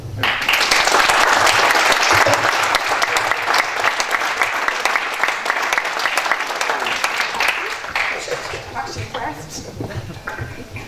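A dinner audience at a Titanic commemoration event in Southampton breaks into sustained, dense applause, loud and even for most of its length before tapering slightly near the end.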